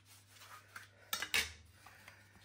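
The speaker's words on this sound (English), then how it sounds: "The first thing I'm going to do is obviously to butter my tins." Butter spread inside metal pie tins for a raised game pie, giving faint metallic rubbing and scraping with a couple of brief sharper clinks in a quiet kitchen.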